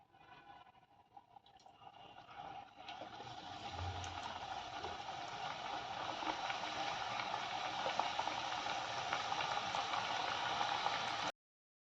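Wheat flour snacks frying in oil over a medium flame, a steady, fairly faint sizzle and bubbling that builds slightly and continues evenly until it cuts off.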